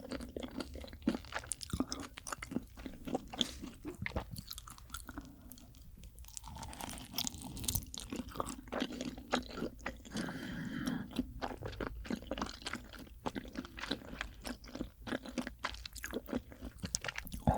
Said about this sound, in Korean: 찐 것도 한번 먹어볼게요